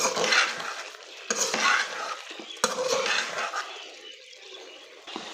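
Egg koftas are stirred through masala in a pan, with bursts of wet sizzling and clattering spoon strokes against the metal, coming in a few uneven waves up close.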